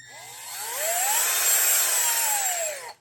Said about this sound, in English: you can adjust the speed of the rotation just by pulling the trigger slowly instead of instantly mashing it all the way down